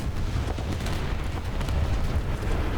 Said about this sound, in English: We destroyed this Ferdinand from behind.